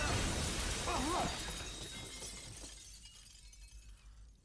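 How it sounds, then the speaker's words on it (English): Glass shatters in a dramatic television scene, a loud crash with a bright tail of falling shards that thins out into quiet. "That glass busted 3 different times."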